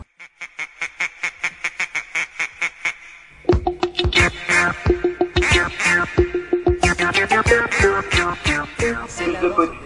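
Rapid, evenly spaced quacks repeat in a steady rhythm, then continue over a thumping, bouncy musical beat.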